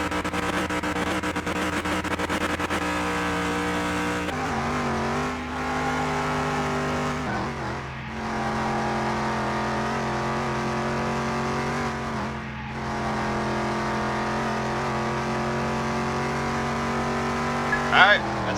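A car driving in Car Mechanic Simulator 21, handling like a go-kart: a steady, close engine drone with shifting pitch runs throughout, dipping briefly a few times, with a short bump near the end.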